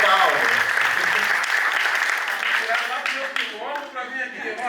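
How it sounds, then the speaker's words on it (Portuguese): Crowd applause for Paulo at a documentary discussion circle, a loud steady burst of clapping that tapers off over a few seconds, with voices cheering and talking mixed in toward the end. "Salva de palmas pro Paulo aí!"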